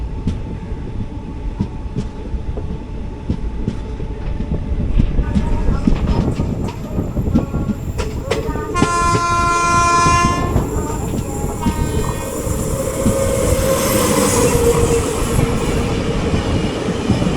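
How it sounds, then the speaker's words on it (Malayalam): The Wayanad Express, hauled by a WAP-7 electric locomotive, passes close by with a steady rolling rumble and wheel clatter, a two-tone horn blast midway, and squealing wheels toward the end. "വാപ് 737563 വയനാട് എക്സ്പ്രസ് ആയിരുന്നു."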